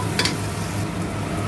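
Ginger sizzling in a hot pan for a stewed beef dish, a steady close frying hiss with a brief brighter crackle near the start and no voices.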